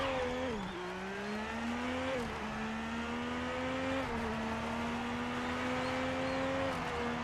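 A BMW race car in a video game howls around the Nürburgring, its engine note held steady at high revs with brief dips at gear shifts, loud and continuous throughout.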